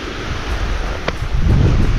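Sea waves and wind from a video game beach, a steady broad roar with gusting swells that build louder toward the end, without any speech.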